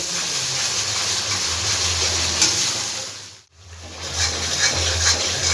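Spice paste for jackfruit kofta fries steadily in a pan, a continuous broad sizzle with stirring scrapes that drops out briefly midway before resuming, close and fairly loud with no voices.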